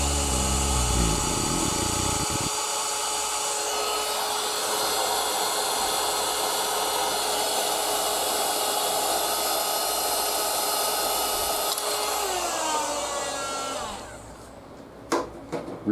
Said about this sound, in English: It's heat gun time.